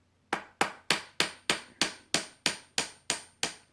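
A hammer gently taps a replacement nut into place on a Stratocaster electric guitar, giving about a dozen sharp, evenly spaced knocks, close and clear with nothing else heard.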